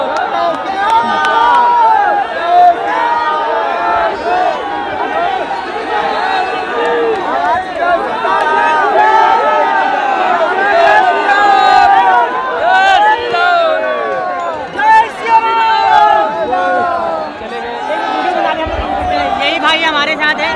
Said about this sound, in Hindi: बाकी मेरे पीछे आप देख लो बहुत ही ज्यादा भीड़ है